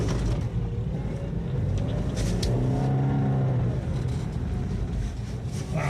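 A car engine revs steadily and loudly as the wheels spin in deep snow during a blizzard, the roar rising and falling in pitch with no voices over it.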